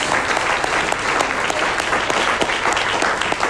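Church congregation applauding at an evening evangelical service, a steady dense wash of clapping hands that holds at an even loudness throughout, with no voices breaking through.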